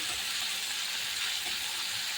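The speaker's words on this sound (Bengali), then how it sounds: "মাছ ভাজা বসিয়ে দিয়েছি" Steady, bright sizzling of small turmeric-coated fish frying in hot oil, continuous and close, with no voices.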